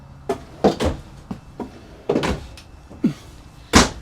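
Several wooden thuds and sliding knocks in an irregular series as drawers in a Jayco Jay Flight SLX travel trailer are pulled open and pushed shut nearby, with no talking.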